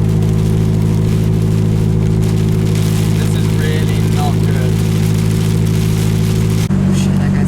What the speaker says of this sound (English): We are driving two supercars and a sports car on a layer of snow.